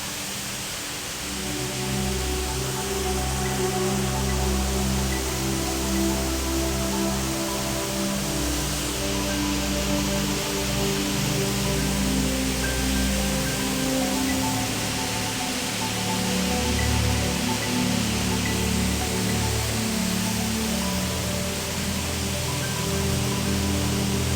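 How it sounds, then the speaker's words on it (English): Long Creek Falls in Georgia, a snowy Appalachian Trail waterfall, giving a loud, constant roar of rushing water that holds steady throughout, close by and with no voices. "This is Long Creek Falls."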